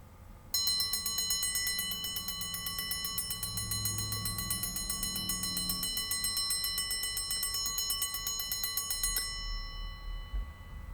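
A vintage alarm clock bell rings at close range, a loud continuous metallic clatter lasting about nine seconds before it cuts off abruptly, followed by faint handling noise.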